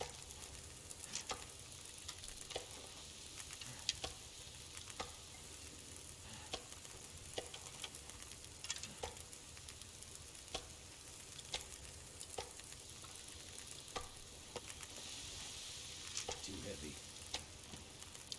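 Meat frying over a campfire in The Long Dark: a steady, faint sizzle with small crackling ticks scattered throughout, continuing evenly with no talking over it.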